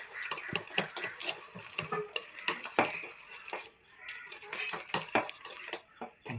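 A yogurt, sugar and salt mixture stirred briskly in a bowl, with quick, irregular clinks and scrapes of a spoon against the sides, close and fairly loud.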